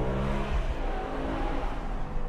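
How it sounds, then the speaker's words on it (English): A BMW M5 E60 with its V10 engine revving on the Autobahn, a loud, steady, close engine roar with rich low harmonics holding throughout without any talk. "the sound is so nice. Of course, this car came out basically in the heyday of V10 cars"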